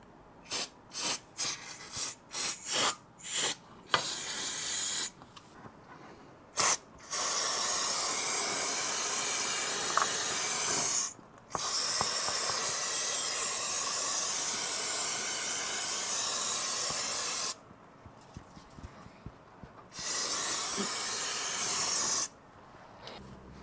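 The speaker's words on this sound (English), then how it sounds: "I'm going to take some brake clean and just try to clean up some of this oil." Brake cleaner aerosol sprayed onto oil on a Honda Goldwing during an oil change, first quick short bursts and then long steady hissing sprays with pauses between, close and loud.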